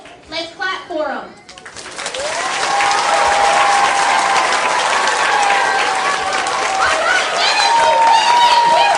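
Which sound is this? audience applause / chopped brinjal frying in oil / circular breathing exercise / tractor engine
audience applause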